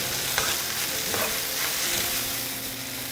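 Sabudana khichdi being stirred and mixed in a pan after lemon juice is added, giving a steady soft sizzle with scraping strokes of the spoon, close and alone without talk.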